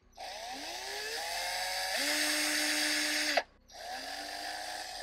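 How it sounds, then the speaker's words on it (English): A small high-pitched drill whines continuously drilling a tiny hole into resin, its pitch dipping as it bites, stops briefly, then spins up again. "from the very top, I'm gonna drill a tiny hole"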